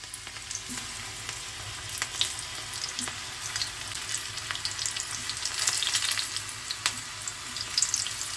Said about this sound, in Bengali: তেল আমাদের গরম হয়ে গেছে আস্তে আস্তে কুঁদরুগুলো ছেড়ে দিই